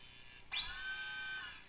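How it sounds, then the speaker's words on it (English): A laser drill from a Star Trek adventure game cuts through a sealed panel, a sudden electronic onset followed by a steady high whining tone that holds for about a second before fading. "The drill easily breaks through the seal of the panel."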